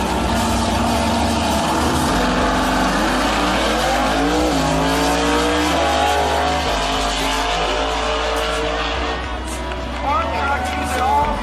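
An old farm truck drag races a Lamborghini down a 660-foot strip, engines roaring loudly and steadily throughout with rising gear-change tones and a hint of tire squeal.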